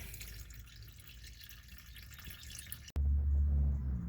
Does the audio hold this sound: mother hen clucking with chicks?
no